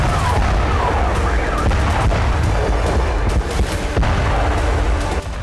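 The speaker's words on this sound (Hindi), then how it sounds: "इस प्रचंड ब्लास्ट के बाद लगातार बजती अलर्ट सायरन की आवाज।" Loud sharp bangs crackle repeatedly over a continuous rumbling roar, with a rising and falling wailing siren sounding through the din.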